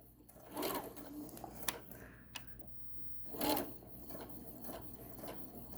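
A sewing machine stitches a tote bag at a slow speed in two short runs separated by quiet pauses with small handling clicks, close but soft.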